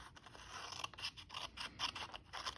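Scissors snip quickly through a paper journal tag, a quiet close run of rapid crisp cuts, about a dozen short slicing strokes in quick rhythm, with no voices.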